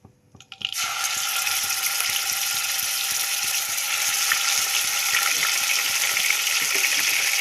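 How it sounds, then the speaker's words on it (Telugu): Ginger garlic paste hits hot oil in a pan after a brief clatter, then sizzles loudly and steadily throughout, a dense continuous frying hiss with no voices. "స్టవ్ ఆన్ చేసి కొంచెం ఆయిల్ వేసుకొని ఇప్పుడు అల్లం వెల్లుల్లి పేస్ట్ వేసుకోవాలి."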